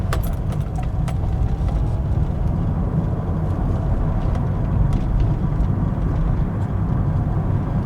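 A car pulls away from a junction on a flashing amber light and drives on through busy traffic; a steady, continuous road and engine rumble runs throughout, fairly loud and close, with no talking.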